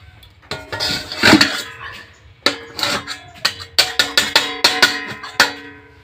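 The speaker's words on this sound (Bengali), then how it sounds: "এবারে আমি কেক টিনটাকে এখানে বসিয়ে দেব।" A metal cake tin for an eggless vanilla sponge cake is set down on a stovetop, making a run of sharp metallic clanks and rattles, loud and close, with short pauses between bursts.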